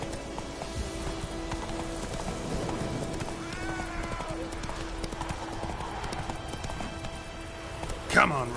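Hooves of Roach, the horse in The Witcher 3, clip-clop in a quick steady gallop over a continuous game soundscape, with a short whinny near the end.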